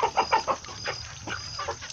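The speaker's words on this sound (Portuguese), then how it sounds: "Tem uns garnizés, aquilo ali é um garnizézinho também." Bantam chickens in a small separate pen cluck in a quick burst of close, rhythmic calls, then a few scattered softer clucks follow.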